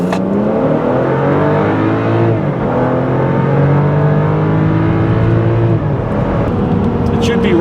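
A 2013 BMW X5 with a twin-scroll turbocharger, about 4,500 pounds, accelerating from 0 to 60 mph at high altitude, its engine droning loud and steady with rising gear sweeps, heard continuously from the cabin.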